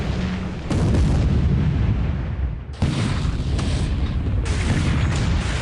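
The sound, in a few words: naval bombardment artillery fire in the War Plan Orange game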